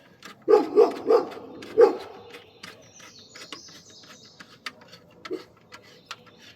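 A dog barks four times in quick succession, fairly close, then the yard goes quiet except for one faint distant bark and light ambient noise.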